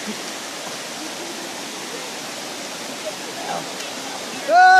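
Steady broadband rush of the Kamaldaha waterfall fills the scene, even and continuous, with a brief tonal sound cutting in right at the end.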